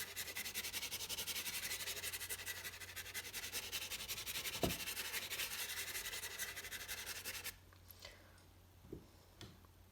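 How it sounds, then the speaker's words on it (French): Pastel is rubbed and blended across paper in rapid, rhythmic scratchy strokes up close for about eight seconds, then falls to quiet with a few soft taps. "J'estompe un petit peu pour que ce soit un poil plus net."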